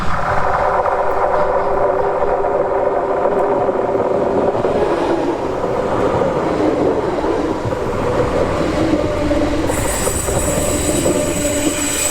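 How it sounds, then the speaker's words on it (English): A Norwegian class 73 multiple unit express train from Trondheim to Oslo passes close by on a bridge, a loud sustained rumble with wheel noise and a high squeal rising toward the end. "The express train from Trondheim to Oslo passes by with a class 73 multiple unit train."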